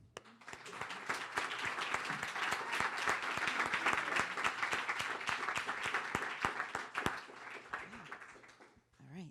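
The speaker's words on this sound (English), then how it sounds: "if you do me the favor of welcoming her with a large round of applause" An audience gives a warm round of applause to welcome a speaker, a dense, lively clatter of many hands that swells, holds steady, then tapers off near the end.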